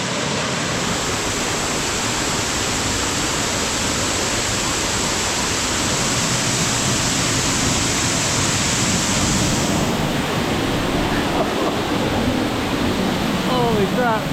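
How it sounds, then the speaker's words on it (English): A waterfall next to a parking lot in waterfall country, with thunder around, roars as a loud continuous rush, close and unbroken for the whole stretch. "look at this waterfall."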